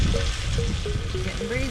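Risotto fries in a small cast iron pan with a loud, constant crackling sizzle, and a few faint squeaky tones from stirring rise above the bubbling hiss.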